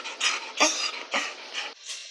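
A small dog yelps and whimpers in several short, close bursts, each high-pitched cry separated by brief gaps, with no talk over it.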